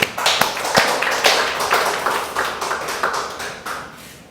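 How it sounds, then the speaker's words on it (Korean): A church congregation at a Sunday worship service claps together, a dense burst of sharp hand claps that gradually thins and fades over a few seconds, with no voices. "하나님께 영광의 박수"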